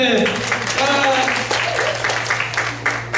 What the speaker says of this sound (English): Clap your hand for them.